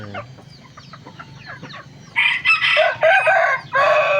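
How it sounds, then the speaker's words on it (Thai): A young rooster crows in loud bursts near the microphone, several strained calls in quick succession after a stretch of quieter clucking and fowl chatter. "ตัวนี้ขันมาแล้วดิตัวนี้ขันมาแล้วดิ"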